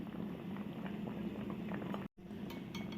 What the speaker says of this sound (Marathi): पाण्याला उकळी आल्यावर जवळजवळ हे मी सात मिनटं असं उकळून घेतलेलं आहे